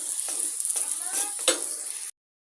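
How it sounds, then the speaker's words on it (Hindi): Aloo paratha cooks on a pan over a low flame and is handled with tongs: a steady, soft hiss of frying with light scraping and clinks, cutting off abruptly near the end. "इसको चिमटे की मदद से हल्की आंच पे मैं इस पराठे को पकाऊंगी।"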